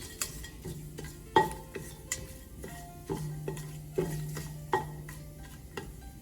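Chicken biryani ingredients being stirred in a pressure cooker, with a soft sizzle under repeated metal spoon knocks and scrapes against the pot at an irregular, unhurried pace, close by.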